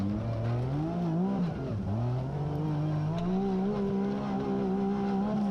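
Ultra4 off-road race cars roar at a national championship race, engines holding a loud, steady drone with rising and falling revs as they accelerate and pass close by.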